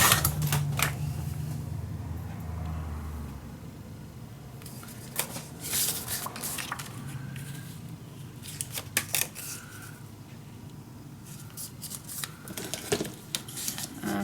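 Scissors snip through patterned scrapbook paper for a winter-themed mini album, with a series of close, crisp cutting crunches and paper rustles in short irregular bursts across a quiet room.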